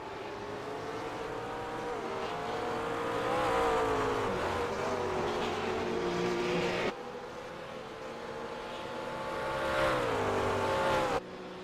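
Race car engines in a sim racing game at Road Atlanta rev and sweep up and down in pitch, echoing around the track as cars pass, loud and continuous with a sudden cut near seven seconds and again near the end.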